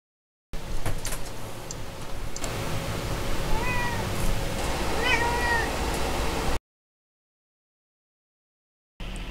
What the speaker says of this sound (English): a cat just burst into my room